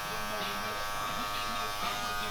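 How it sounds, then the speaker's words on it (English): Electric hair clippers trim a thick beard in a barbershop, giving a steady close buzz that holds unbroken through the whole short stretch. "the clipper over comb technique"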